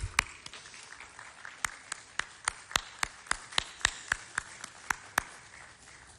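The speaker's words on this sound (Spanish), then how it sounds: "Otro aplauso para don Vitelio, que está con nosotros." A sparse audience gives scattered, isolated claps at a sports summit, with distinct individual hand claps spaced out fairly evenly at moderate distance in a quiet room.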